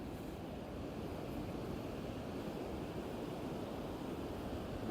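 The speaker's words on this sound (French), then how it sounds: "Donc là on est sur la plage des Sables d'Olonne." Ocean waves wash onto the beach at Les Sables d'Olonne in a constant, even surf roar, with some wind noise against the microphone.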